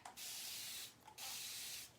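A fine mist spray bottle spritzes water onto an inked silk screen, two long steady hissing sprays separated by a short pause, close and fairly quiet, with no talk.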